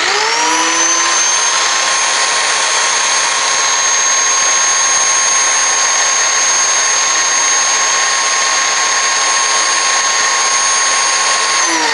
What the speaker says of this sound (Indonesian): kita mulai dengan pengukuran RPM. Apakah sesuai dengan yang tertulis di spesifikasi Black Decker ini? Kita coba.